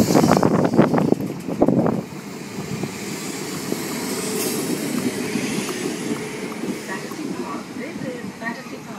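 A class 455 electric train runs at Battersea Park station, London, a rumbling roll with wind noise that follows a brief burst of louder clatter in the first two seconds.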